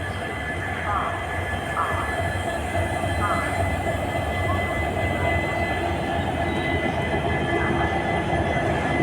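Trains stand at Guwahati railway station amid a steady, loud rumble and station clatter, with voices talking over the noise throughout.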